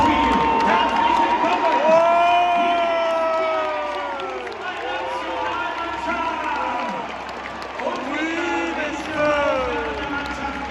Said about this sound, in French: Les Anglais qui rentrent sous les huées.